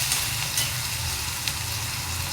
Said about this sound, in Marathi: छान असा फ्राय करून घेऊया